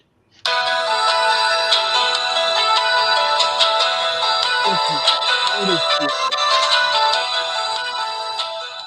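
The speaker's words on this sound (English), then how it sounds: "So everybody whip out a ringtone that they're going to use." A phone ringtone plays a TV theme as a loud, steady tune for about eight seconds, with brief voices murmuring underneath partway through.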